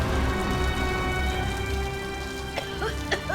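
Steady rain pours outdoors onto a woman shut out of the house, making a dense, even hiss up close with a few sharper tonal accents near the end.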